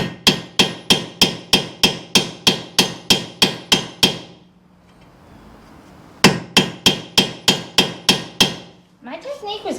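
A hammer smacks a bolt on a bolt-on gasser front end being fitted to a 1964 Chevy II: a close, loud run of about a dozen rapid metallic blows, a pause of faint shop noise, then another fast burst of strikes and a brief voice.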